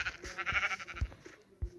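Minecraft sheep bleating from the video game, several short wavering bleats spaced across the moment, close and fairly clear with no talk over them.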